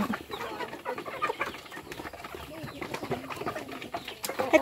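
Chickens kept as backyard livestock cluck and call in a busy yard, with other birds adding scattered calls among steady low-level farmyard noise.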